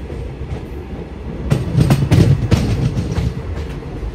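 A Sankranthi special passenger train rolls along the rails, its continuous rumble broken by a run of sharp wheel clatters over rail joints midway, loud and close, with no talk.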